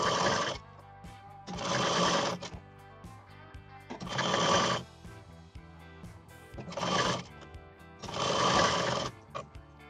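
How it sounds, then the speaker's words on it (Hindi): A sewing machine stitches bias-cut fabric for a double katori blouse in five separate bursts of fast, even, whirring stitching, each lasting one to two seconds, with quiet pauses between them. "इसमें थोड़ा सा स्ट्रेस करके सिलते हैं क्योंकि इसमें औरेब है कपड़े में"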